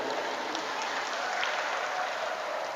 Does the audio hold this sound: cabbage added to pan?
no